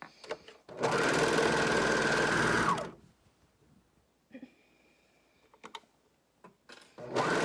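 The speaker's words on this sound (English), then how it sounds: "Okay, we are sewing Tessa's. Here we go, shoulder seams." A sewing machine stitches the shoulder seams of a dress, one loud steady two-second run of close mechanical whirring, followed by quiet handling clicks and a second burst starting at the end.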